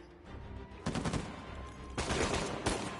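Bursts of rapid gunfire in the Uncharted 4 video game on crushing difficulty, with several loud volleys of shots cracking out over a constant low rumble, each lasting a fraction of a second.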